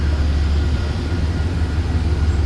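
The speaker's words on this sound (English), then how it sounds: "And it's a long train." A heavy low rumble of a long train passing close by a high-level platform station in Pawling, New York, steady and continuous with no break.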